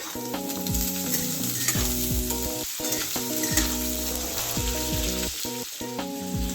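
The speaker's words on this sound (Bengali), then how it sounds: "আলু মূলোটা একটু বেশ ভালো করে ভেজে নিয়ে" Potato and radish fry in a pan with a loud, steady sizzle close by, while a tonal melody plays throughout and occasional stirring scrapes cut in.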